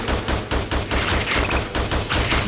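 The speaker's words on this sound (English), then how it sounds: "First aim shot, rapid shot." Bursts of rapid gunfire in the Xbox 360 game Attack Of The Movies 3D, loud and close, coming in quick regular volleys with brief gaps and swelling toward the end, with no talking.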